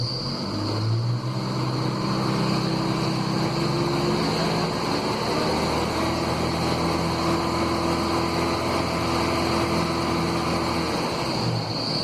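A car engine settles into a steady idle after a snap test during mechanical testing, humming evenly and continuously at moderate loudness with a faint high whine on top.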